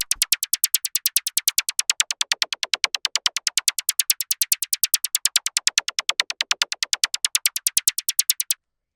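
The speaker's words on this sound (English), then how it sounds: "All this is it's just some white noise." A fast, steady run of short, bright white-noise synth plinks in an acid breakbeat techno track, evenly spaced like sixteenth notes, crisp and close, with nothing else underneath.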